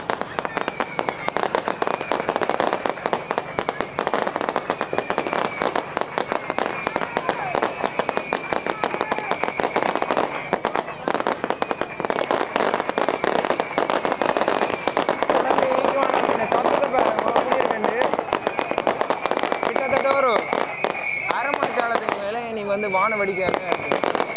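Fireworks bursting over Jaffna in a dense, continuous barrage of crackles and pops, loud and close throughout, with excited voices of onlookers talking over the display.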